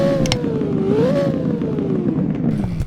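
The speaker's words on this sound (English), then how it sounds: "Why don't we do a rev test though?" Car engine in a Roblox driving game revving up and down in smooth pitch sweeps, a loud synthetic whine rising then falling over a steady low hum.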